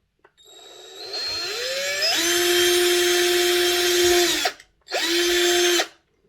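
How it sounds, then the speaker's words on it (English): A small power drill bores holes in the chassis of a Hornby Class 253 HST Intercity 125 model train, a high whine spinning up, running loud for a couple of seconds, stopping, then a second shorter burst. "I'm going to drill a couple of holes in the chassis"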